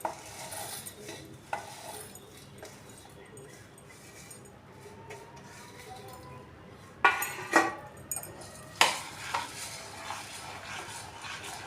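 Roasted wheat puffs are stirred through sticky jaggery syrup in a pan: soft scraping and rustling, then a cluster of sharper clacks from the spoon against the vessel partway through.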